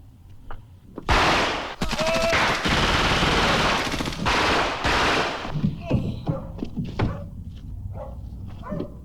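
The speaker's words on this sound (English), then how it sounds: "Shots fired on Trujillo Avenue." Heavy bursts of automatic gunfire in a film street ambush, loud and close with sustained volleys, followed by scattered single shots, barking dogs and shouting voices.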